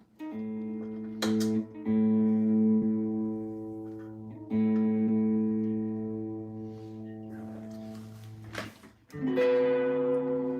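A new electric guitar plays through distortion and effects, ringing out long sustained chords in several loud strums separated by brief pauses.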